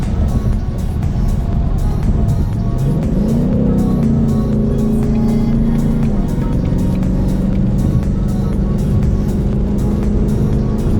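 A GT car accelerates on a rain-soaked road, engine note rising and holding steady over loud, constant tire spray and road hiss, with the pitch climbing through gears near the middle.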